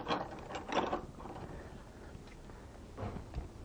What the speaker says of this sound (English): On the side rail that we put on, we're going to attach a standard swivel clamp.